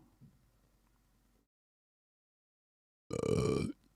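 A single loud, close burp after a stretch of silence, preceded by faint low background noise.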